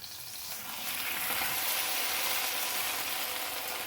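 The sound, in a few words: potatoes frying in oil in a pan for Spanish tortilla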